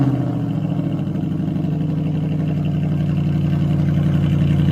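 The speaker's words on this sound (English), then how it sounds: "This has a supercharged V8." Straight-piped supercharged V8 in a Range Rover Sport idling with a deep, steady burble and a slight rise in revs, heard close and loud with no one talking.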